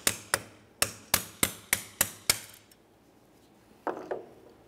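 Metal prying and tapping on a wheel bearing shield of a 2011-2020 Toyota Sienna front hub: eight sharp clicking knocks in a steady rhythm, close and fairly loud, then a pause and two softer scraping taps.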